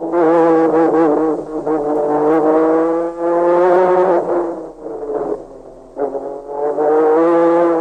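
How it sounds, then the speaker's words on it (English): A turbocharged Formula 1 car engine wails continuously at high revs, the pitch rising and dipping repeatedly as the throttle is blipped on and off, loud and close. "you can hear Senna blipping the accelerator from the mid corner to keep that turbo going"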